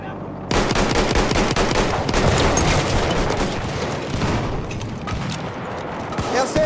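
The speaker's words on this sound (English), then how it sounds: "Feindliches MG da drüben!" An enemy machine gun in a Battlefield video game fires rapid, loud bursts of automatic gunfire mixed with other shots and booms in a chaotic battle, with voices calling out underneath.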